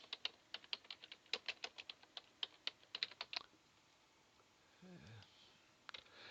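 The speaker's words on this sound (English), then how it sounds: "I'll just type something here." Typing on a computer keyboard, a quick run of light key clicks at close range during the first few seconds, followed by quieter handling noise and a brief faint rustle.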